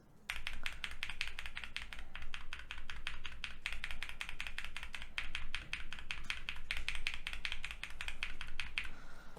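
Rapid, steady typing on a mechanical keyboard with lubed Durock T1 tactile switches, a continuous stream of deep, muted keystrokes, close and clear with no talking.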